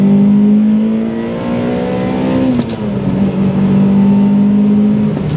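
A Toyota Celica's 2ZZ engine revs steadily toward 8,000 RPM, a loud, close, sustained rising whine with strong harmonics, dipping briefly partway through before climbing again, with no talking.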